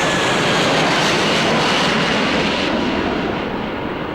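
A loud jet airplane roars steadily overhead, a dense, unbroken rumble that fills the scene and fades slightly toward the end, with no voices.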